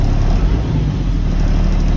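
An automatic tractor-trailer in drive, gas pressed during a tractor air-brake test, gives a steady, close, low engine rumble that holds even throughout with no voices.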